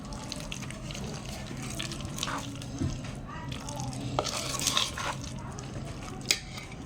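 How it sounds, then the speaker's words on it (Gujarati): Raw mango chunda is stirred and mixed with red chilli powder and spices in a pot, making a continuous wet, scraping churn with occasional clinks of the spoon against the metal. "હવે સરસ રીતે બધું મિક્સ કરી લેશું આપણે"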